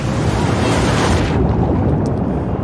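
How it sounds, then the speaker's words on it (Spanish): Ocean waves in the video game The Last of Us Part II, a loud roaring surf crash that washes over everything then recedes into a softer hiss, with no speech. "al parecer tenemos aquí un montón de olas"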